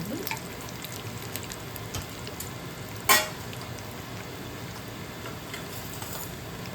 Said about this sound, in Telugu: ఇవి కొంచెం నూనెలో ఇలా వేగాలండి